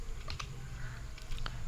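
A command being typed on a computer keyboard, a few quick soft key clicks in short bursts, close and quiet with no voice.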